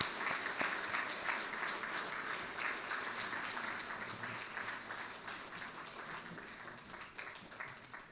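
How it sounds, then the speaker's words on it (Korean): A church congregation gives hearty applause celebrating an infant baptism, a sustained roomful of clapping that stays strong and then eases slightly toward the end. "우리 뒤돌아서 인사하실 때 우리 큰 박수로 축하해 주시기 바랍니다."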